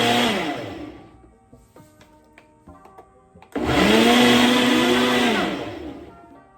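A Ninja Duo blender runs on its smoothie setting, whirring loudly for a moment, dropping to a few quiet clicks and knocks, then roaring back up strongly for about two seconds before winding down.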